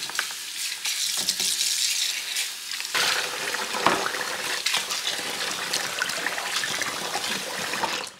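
Plant-dyed fabric is rinsed under running water, a steady splashing trickle with sizzling texture and intermittent sloshes as the cloth is worked, close and continuous with no talk.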